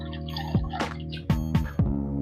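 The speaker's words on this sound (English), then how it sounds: "And this is the coconut milk. I'll dilute it with some water" Water is poured and drips into coconut milk in a kitchen to dilute it for a curry gravy, heard as a few close, distinct splashing glugs and drips with no talk.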